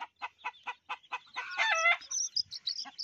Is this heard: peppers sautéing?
no